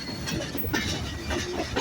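Khulna to Dhaka intercity Chitra Express rolling through Kotchandpur railway station, with repeated clickety-clack of wheels over rail joints and a rumbling carriage roar, fairly close and steady.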